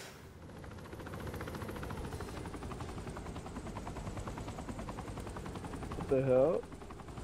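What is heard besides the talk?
helicopter in video game Saints Row 3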